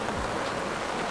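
Steady rain falling at a cattle stockyard, a dense, even hiss of drops that fills the whole moment without letup.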